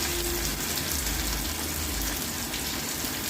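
Vegetarian Bengali banana-flower chops coated in breadcrumbs sizzling in hot frying oil, a steady dense hiss that holds loud and unbroken throughout.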